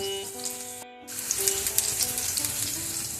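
Onion, green chilli, ginger, garlic and curry leaves frying in a pan for a tomato egg curry; a tonal hum cuts out, then a bright crackling sizzle with popping spatters takes over nearby.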